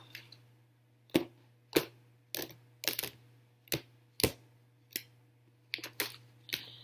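Tarot cards being shuffled in an unconventional way, giving about eleven sharp snapping slaps at uneven intervals over a steady low hum, with no talking.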